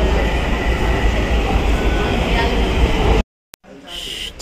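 An MRT metro train runs loud and steady at a crowded station during rush hour, with a dense rumbling roar that cuts off abruptly near the end and gives way to quieter station noise.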